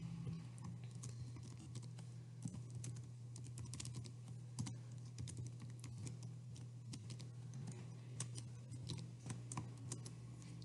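Soft, irregular clicking of fingers typing on a computer keyboard, quick uneven keystrokes in a quiet room.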